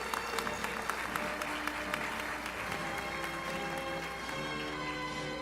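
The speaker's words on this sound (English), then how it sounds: "Give them a round of applause, please." Graduation ceremony audience applauding steadily, a dense wash of many hands clapping throughout without pause, fairly loud and close.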